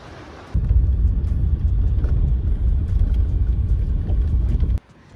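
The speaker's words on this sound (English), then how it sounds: "The waves here are so massive." Massive ocean waves crash onto a steep shore along a coastal drive at Del Norte State Park, a loud, continuous roaring rumble that surges in and then cuts off abruptly.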